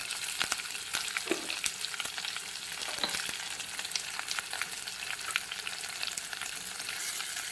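Onions fry in a hot pan with curry leaves already sizzling in the oil, a steady close crackle broken by frequent sharp pops and the occasional scrape of stirring.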